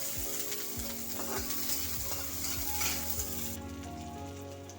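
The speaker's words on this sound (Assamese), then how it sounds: "পিয়াজখিনি অলপ ভাজি লম" Sliced onions sizzle in hot oil in a pan as the base for a paneer, potato and tomato curry, a steady close crackle with occasional stirring scrapes and no talking.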